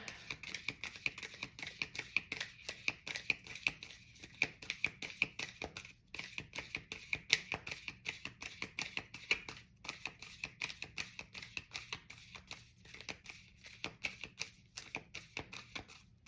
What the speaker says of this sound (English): Let's shuffle a little bit, just so I'm not starting at the same point.